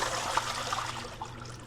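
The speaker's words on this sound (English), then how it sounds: "Now I'm going to drain this water into the sink." Water drained from a container into a kitchen sink while making tapioca flour from scratch, a soft continuous trickle and splash, fairly quiet and close.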